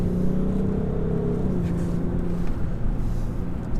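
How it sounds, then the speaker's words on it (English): A 2018 Range Rover Sport's diesel engine drones at low revs while the SUV drives around a corner, a steady close cabin rumble with a slight rise and fall in pitch and no talking. "that low down grunt of this diesel engine is pretty impressive"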